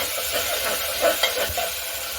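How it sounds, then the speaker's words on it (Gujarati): Tomatoes and onions are stirred in a pan with a spoon, making soft scraping and swishing strokes over a low sizzle, close and moderately loud, with no voices. "હવે સારી રીતે બંનેને મિક્સ કરી લઈશું।"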